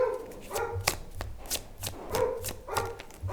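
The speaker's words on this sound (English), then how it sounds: "Excuse the dog barking" A dog barks repeatedly in quick, loud bursts close by, the barks coming in an irregular series.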